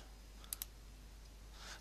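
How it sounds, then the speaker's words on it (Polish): A computer mouse gives two quick, faint clicks close together over a quiet background hum while files are being added in Windows Live Movie Maker. "Klikamy, aby dodać pliki."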